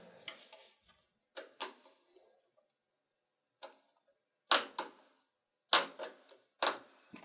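A flathead screwdriver scrapes and clicks against a stubborn screw during a PC network upgrade, with sharp close taps and scratches in irregular bursts separated by quiet pauses.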